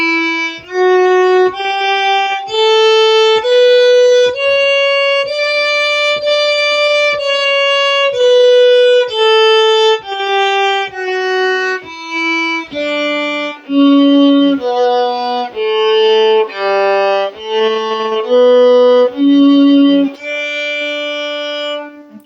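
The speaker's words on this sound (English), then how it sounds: "So this scale is going to sound like this." A bowed string instrument plays a slow scale with a G3 stretch, each note clear and sustained, stepping up and then back down. The playing is close and loud, with no talk over it.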